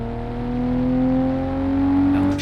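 AI traffic cars in an Assetto Corsa Portugal open-world mod, a steady engine drone with sustained tonal whine that rises slightly, then a brief clatter at the end, with no talk.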